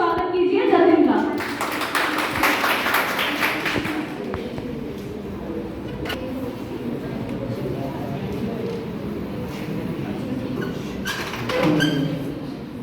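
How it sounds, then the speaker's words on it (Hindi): A debate audience at a hospital event claps to welcome a speaker. A burst of clapping comes first, then quieter scattered claps and taps, with voices talking. "जोरदार तालियों से स्वागत कीजिए जतिन का।"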